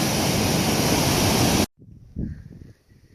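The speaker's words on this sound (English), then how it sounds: "So, here's the top of the waterfall." A waterfall in Yosemite National Park roars as a loud, dense broadband rush of water, then cuts off abruptly, leaving faint low rumbling and distant wind.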